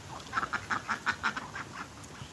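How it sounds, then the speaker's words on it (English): A flock of ducks quacks in a quick rhythmic series of about eight close, loud calls at a backyard poultry pen before rain, fading into scattered softer quacks. "And that's your duck squad."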